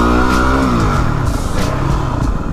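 Yamaha WR250R dual-sport off-road motorcycle engine revving loudly up close, its pitch climbing and then holding at a busy, rough high idle with some mechanical clatter.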